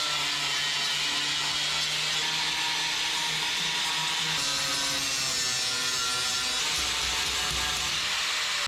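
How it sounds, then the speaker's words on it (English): Abrasive flap disc grinding down welds on the body panels of a 1930 Ford Model, a steady loud broadband grinding with shifting pitch that runs continuously without talk. "All we're gonna do is grind down these welds."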